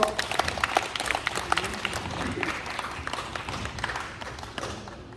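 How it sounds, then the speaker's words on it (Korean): Applause from an audience welcoming a singer onto the stage at a Korean kidney disease association chapter event in Gimje, a dense wash of clapping that fades gradually over about five seconds, with no speech over it. "큰 박수 보내주세요"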